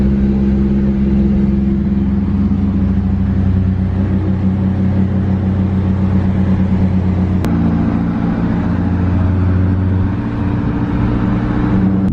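A Nissan 240 engine runs steadily and close, a loud continuous low rumble with a slight shift in pitch partway through, with no talking.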